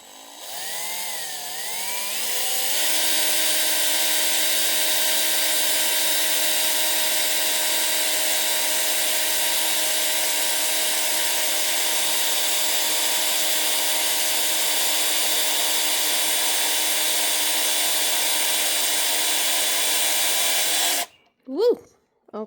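A power drill boring a 3/16 inch hole runs as one loud, steady whine for about eighteen seconds after a short spin-up. It cuts off abruptly near the end, and a brief voice follows.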